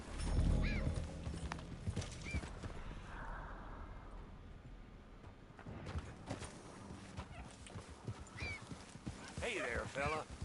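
Horse hooves clip-clopping and a whinny in the open-world western game Red Dead Redemption 2, with steady near hoof falls and a bright neigh late on, mixed with game ambience and some speech.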